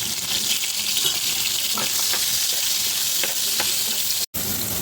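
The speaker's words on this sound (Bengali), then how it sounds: "আলুটাকে ভেজে নেব।" Potatoes fry in hot oil with a strong, steady, hissing sizzle and occasional crackles, loud and close throughout, broken only by a brief cut near the end.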